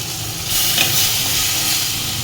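Ginger-garlic paste hits a pan of frying onion paste and spices for a prawn malai curry, bursting into a steady, close, hissing sizzle after a short quieter start, with no speech.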